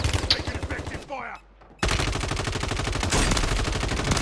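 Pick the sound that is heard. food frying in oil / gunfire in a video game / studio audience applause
gunfire in a video game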